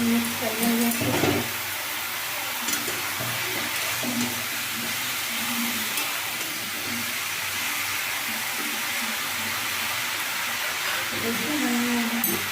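Bottle gourd, potato and chana dal get stirred in a kadhai, with a soft steady sizzle and faint scraping of the spoon at a low, even level.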